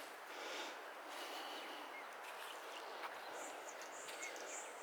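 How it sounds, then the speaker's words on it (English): A small bird sings in faint, high chirps above a steady wash of distant ocean surf by a small swamp, with no one talking. "A little bird up there just singing."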